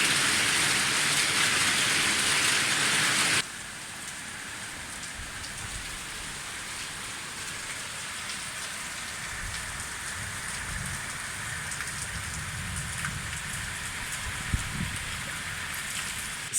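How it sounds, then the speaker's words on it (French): Heavy rain pours steadily during a thunderstorm in the early morning, a dense constant hiss that is louder at first, then drops to a softer, even patter with a faint low rumble near the end. "Il pleut, il fait de l'orage, il fait des éclairs."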